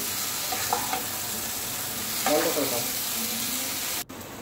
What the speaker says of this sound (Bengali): ফুলকপিটা দিয়ে একটু কষিয়ে নিচ্ছি।